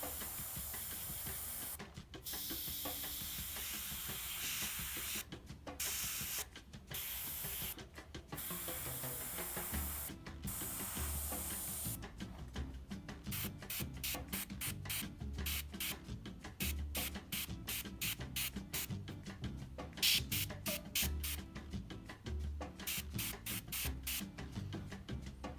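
An airbrush sprays Mission Models paint during a test, giving a steady hiss broken by a series of sharp, rapid on-off bursts as the trigger is worked.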